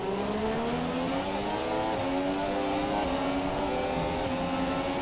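A Formula 1 car in the F1 2017 racing game screams through a curve at the British circuit, its high engine note holding steady and rising slightly, loud and close without a break.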